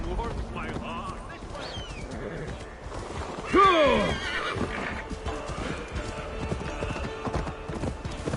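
Hooves clip-clop on the ground in Assassin's Creed Valhalla, and partway through a horse lets out a loud close whinny, while people talk over the scene.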